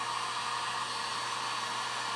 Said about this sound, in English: everyone needs a heat gun